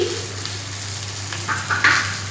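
Okra and onion frying in a pan, a soft continuous sizzle over a low steady hum, with a few brief scraping stirs near the end.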